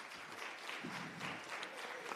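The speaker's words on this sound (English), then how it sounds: "I think she does deserve a round of applause." Steady applause from a crowd at a report launch event, an even wash of clapping throughout with no voices on top.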